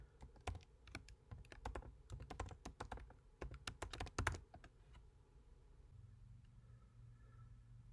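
Computer keyboard keys tapped in quick bursts of typing while a new class name is entered in IntelliJ, close and fairly quiet, stopping halfway through and leaving a soft hum.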